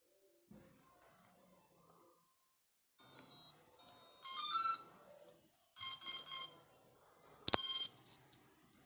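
An RC electronic speed controller beeps during throttle calibration, sounding several separate bursts of high electronic tones with quiet gaps between them, the last burst sharp and loud.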